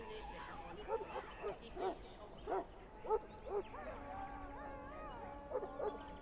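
Mabari warhound in the video game Dragon Age: Origins giving a string of short barks and yips at a steady pace, fairly close, followed by a higher whining tone over a quiet background.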